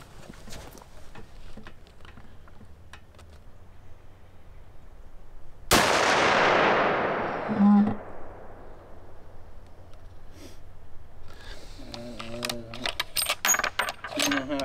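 A single sharp rifle shot cracks loudly at a 300-yard steel target range, fired from a 2020 Waypoint rifle, then decays over a second or two. A faint later echo or ring follows, with quiet outdoor background and soft voices toward the end.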